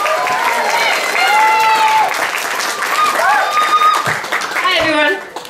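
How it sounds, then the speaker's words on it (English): A crowd applauds the artist Sharon at a community launch event in Flowerdale, loud sustained clapping mixed with cheers, whoops and chatter, close and busy before it quickly dies down at the end. "give everyone a round of applause for Sharon"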